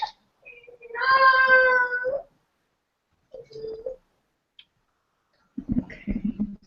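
A cat meows in one long drawn-out call, followed by a shorter, fainter meow and a low rumbling burst, with quiet gaps between them.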